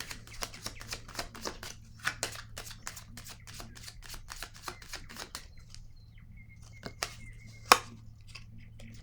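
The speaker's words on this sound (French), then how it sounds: "Je vais rajouter une carte ici." Playing cards handled at a table, a rapid run of crisp riffling flicks followed by scattered card slaps, with one sharper placement near the end, close and clear in a quiet room with a low hum.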